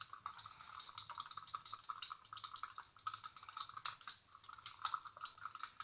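Fluid acrylic paint for pouring is stirred in a container, giving soft, irregular scraping and sloshing clicks close by, quiet and continuous with small peaks as the stirrer knocks the sides.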